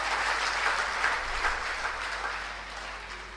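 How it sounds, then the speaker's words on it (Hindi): An audience at an Alcoholics Anonymous service gathering claps to welcome trusted servants, a steady, moderately quiet wash of applause that fades slightly toward the end, with a low hum beneath. "तो दोस्तों तालियों से इनका स्वागत करेंगे।"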